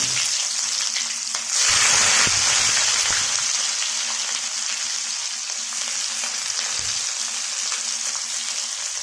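Onions dropped into hot oil for a chicken biryani gravy hiss and sizzle loudly, with a sharp burst as they hit the pan, then settling into a steady close frying crackle with faint stirring.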